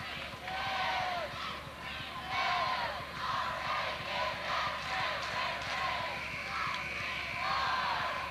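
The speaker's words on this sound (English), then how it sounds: "this big Mount Vernon crowd on their feet" Big Mount Vernon home crowd on its feet at a 1998-99 high school basketball game against O'Fallon, a steady roar of cheering and shouting filling the gym, with whistles and shrill voices rising over the din.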